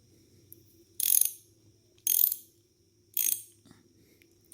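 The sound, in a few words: ratchet tool loosening throttle body nuts on Daihatsu Move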